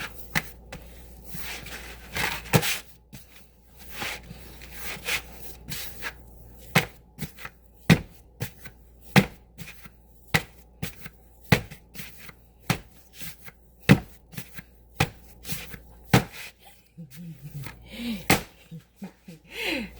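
Monay bread dough being kneaded by hand, a steady run of soft slaps and presses repeating about once a second, close and fairly loud with no talk.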